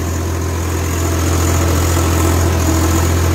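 A Swaraj 855 FE tractor's heavy diesel engine idles steadily and close by, a low constant rumble with mechanical vibration and no talking.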